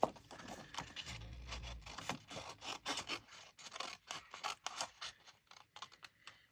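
Scissors snip into the corners of paper in a beginner craft project, giving a series of close, faint, crisp cutting and rustling strokes in an irregular rhythm with no talk.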